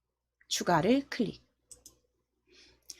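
A couple of sharp computer mouse clicks are made while working in an Excel spreadsheet, following a spoken phrase from a nearby voice.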